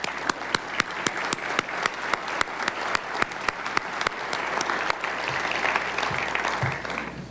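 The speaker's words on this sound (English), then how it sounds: "I want to give you a round of applause" Audience applauds port authority staff, starting with a few sharp, evenly spaced claps that swell into a fuller, continuous round of clapping.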